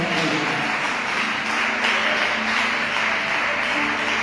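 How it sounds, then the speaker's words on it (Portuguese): A church congregation breaks into steady, dense applause, a continuous wash of many hands clapping at once that stays loud and even throughout, with faint voices mixed in. "Receba o servo de Deus com uma salva de palmas"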